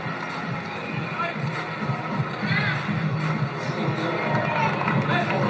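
A crowd at a boxing match cheers and roars, a steady dense wall of voices that swells slightly toward the end, with a commentator talking over it.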